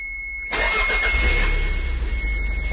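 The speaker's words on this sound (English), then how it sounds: "Okay, first startup." Toyota MR2 engine cranking and firing up on its first start after a new fuel pump install, catching abruptly and settling into a loud, steady idle close by, with a constant high whine underneath.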